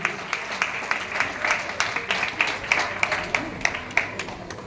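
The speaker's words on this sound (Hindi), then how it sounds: "ताली बजा के प्रभु को धन्यवाद करें" A wedding congregation claps together in a steady run of applause that lasts throughout, close and fairly loud, with a faint murmur of voices mixed in.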